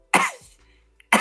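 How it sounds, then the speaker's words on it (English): A single person coughs twice close by, a sharp harsh burst with a throaty tail, then a short gap and another abrupt cough; the person has a tickly throat. "I'm coughing like this all the time."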